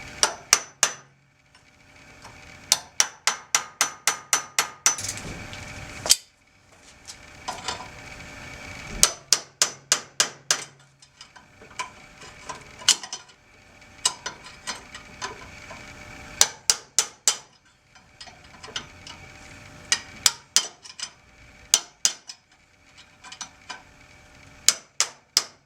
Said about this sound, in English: I kind of had to really get after this with a hammer, but it is going to pop out here in a second